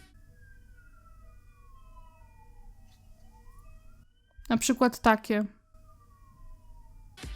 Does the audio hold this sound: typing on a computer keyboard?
no